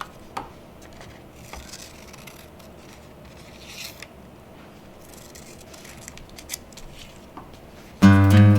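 Scissors cut out paper bird pieces for a winter birds craft, with soft, sparse snips and paper rustling close by. Near the end a sudden loud burst of other sound cuts in.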